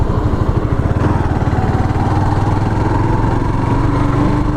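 A Suzuki GZ250 motorcycle engine running, freshly fitted with an E3 spark plug and Seafoam in the carburetor, a loud close steady putter with an even rapid pulse.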